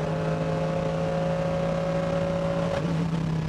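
A Porsche race car on track at the VLN endurance championship six-hour race at the Nürburgring, its engine a steady, fairly distant drone held at one pitch with a slight shift near the end, and nobody talking.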